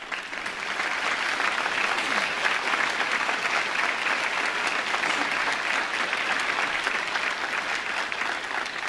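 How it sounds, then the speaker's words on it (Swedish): A TV studio audience applauds steadily for several seconds, a dense, even roar of many hands clapping at moderate distance, with no talking over it. "Annika Andersson är det som ni har applåderat nu."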